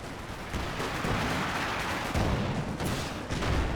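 Battle sounds from Company of Heroes 2 as an incendiary grenade is thrown: a dense, steady wash of gunfire and distant artillery-like rumble with sharper bursts near the middle and end, loud throughout with no voices.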